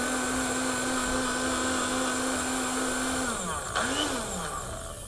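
Blender whirring steadily as it fluffs chilled fresh orange juice with no ice, a loud constant high motor whine that dips and wavers near the end as the load shifts.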